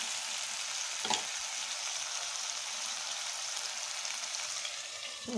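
Potato, eggplant and bitter gourd pieces fry in a pan for a Bengali vegetable dish, making a steady, moderately loud sizzle with one brief stirring scrape, and no talking.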